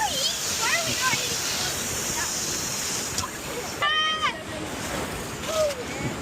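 Waterfall splashing on a theme park water ride at Six Flags Discovery Kingdom, a constant rushing wash of falling water with bursts of splash, while voices shout and squeal over it.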